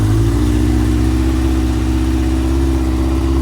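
A Yamaha XJ900 Diversion motorcycle engine idles cold with its fuel tank just resting in place, a loud, close, steady low rumble with an even pulsing throb and no talk.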